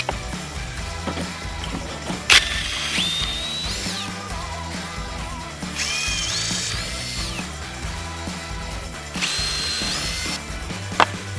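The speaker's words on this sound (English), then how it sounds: "Now I'm going to go up to an 11/64 bit since I have my pilot bit in there." A power drill with an 11/64 bit bores a pilot hole in a wooden fascia board, whirring steadily in loud, close bursts with brief pauses and sharp clicks between them, and no voices.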